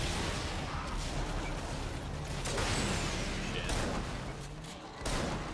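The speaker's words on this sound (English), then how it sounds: "Mega guns." Mega guns blazing in the vehicular combat game Twisted Metal: dense, continuous rapid gunfire with booming impacts and whooshes, loud and sustained, with a voice talking over the barrage.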